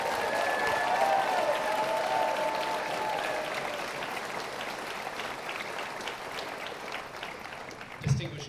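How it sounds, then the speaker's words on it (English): Graduation ceremony crowd applauding the graduates of a 2024 high school class, a steady wash of clapping heard at a distance under a hall's reverberation, fading slightly, with a brief thump near the end. "I think we give them another big round of applause."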